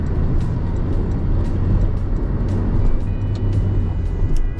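Steady interior road noise inside a car cruising a quiet highway on a cloudy evening, a constant low rumble and tire hum with faint higher hiss throughout, no talking.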